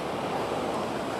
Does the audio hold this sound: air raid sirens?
no